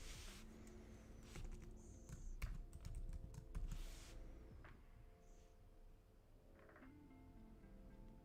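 Typing on a computer keyboard during live gold trading, bursts of rapid clicky keystrokes close by and quiet, with pauses between runs and no talk.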